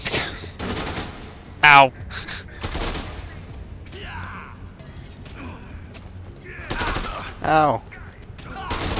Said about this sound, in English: God, they have guns.